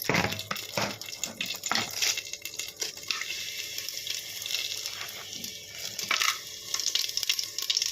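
Whole spices crackle and sizzle in two spoonfuls of hot oil in a pressure cooker for veg pulao, with a steady close frying hiss and irregular bursts of popping and rattling.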